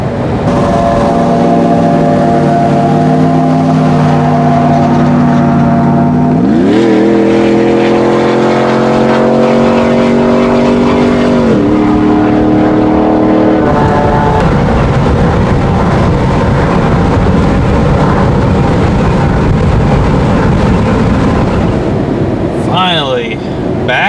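Small RC crawler truck motor driving off-road, its electric whine loud and close, rising and falling in pitch as the throttle changes, continuous throughout with a brief sharp sound near the end.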